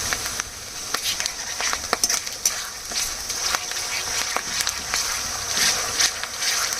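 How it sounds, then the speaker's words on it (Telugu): Ginger garlic paste fries with curry leaves in a pan for a scrambled baby shark puttu, a continuous crackling sizzle with scattered sharp pops and spits, close and fairly steady. "అల్లం వెల్లుల్లి పేస్ట్ పచ్చివాసన పోయేంత వరకు వేగించాలి."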